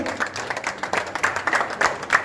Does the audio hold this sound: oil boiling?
no